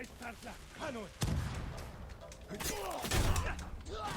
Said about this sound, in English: Smoke bomb.